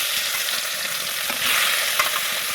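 Salted, turmeric-coated snakehead fish frying in hot oil in a wok, a steady close sizzle throughout that swells a little louder partway through, with light stirring.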